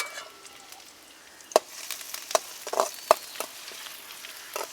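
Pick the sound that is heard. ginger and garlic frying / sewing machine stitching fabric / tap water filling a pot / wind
ginger and garlic frying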